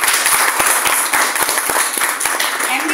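An audience at an office event gives loud, dense applause, a continuous wash of many hands clapping close and full for the whole stretch, with no speech over it.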